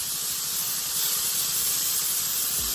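Yellow onions fry in a pan for burgers, giving a close, even, steady hiss of sizzling that never stops.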